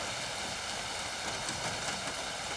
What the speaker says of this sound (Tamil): என்ன ஒரு மழை.